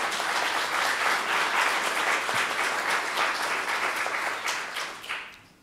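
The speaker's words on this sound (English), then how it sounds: "that deserves a round of applause" Conference audience applauding steadily and fairly close for about five seconds, a dense wash of clapping that fades away at the end, with no talking over it.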